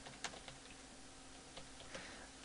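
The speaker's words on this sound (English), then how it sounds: "So type in Expression Encoder" Typing on a computer keyboard, a steady run of light clicking keystrokes close by with a few slightly louder taps, no voices.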